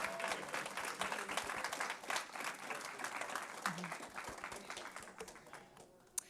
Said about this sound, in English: One more round of applause for Mia.